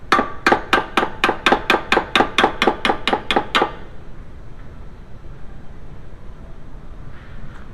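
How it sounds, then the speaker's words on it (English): A rapid series of about a dozen sharp metallic hammer strikes on a punch, tapping out a tie rod on a VW B5 Passat, in steady rhythm, then the blows stop and only low background noise remains. "You can use the punch to tap it out"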